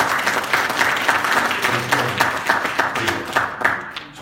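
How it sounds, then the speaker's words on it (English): An audience at a live NLP seminar claps together in sustained applause, a dense, fairly loud patter of many hands that carries on for several seconds. "Let's give a round of applause for you."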